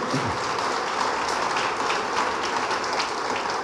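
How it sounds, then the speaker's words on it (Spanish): A church congregation gives a round of applause, a dense, steady wash of many hands clapping together, loud and sustained from start to finish. "Démosle un aplauso al Señor."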